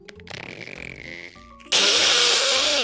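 A human voice imitates a cat fart with a buzzy, rasping blurt that cuts off abruptly, followed by a louder, harsh sustained burst that holds for about a second, close and alone without talk.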